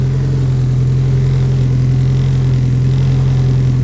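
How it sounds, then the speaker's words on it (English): A turbocharged Honda Civic engine runs close by with a steady, unbroken drone and strong low rumble, holding an even note throughout with no voices. "Let's let it warm up and I'll give you guys a little rev"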